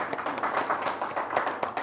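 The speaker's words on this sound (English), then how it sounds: "Give her a round of applause as well." An audience claps for a volunteer brought up on stage, a moderate, steady patter of many hands lasting a couple of seconds, heard alone without voices.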